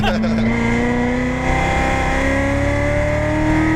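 A Corvette C7 Z06 accelerates hard on a race track, its engine note rising steadily in pitch as it pulls through the gear, loud and close from inside the car, with voices talking over it.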